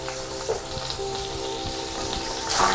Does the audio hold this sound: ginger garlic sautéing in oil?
yes